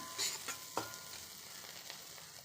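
Sliced bitter gourd and onions fry in a pan with a soft, continuous crackling sizzle and a couple of light spatula strokes near the start.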